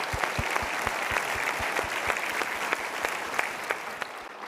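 Studio audience applause at a stage talk show, a steady dense roar of many hands clapping with sharp individual claps standing out, sustained and fairly loud throughout.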